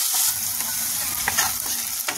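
Onions and ripe chillies fry in oil in a wok with a steady close sizzle, broken by a few soft scrapes of stirring.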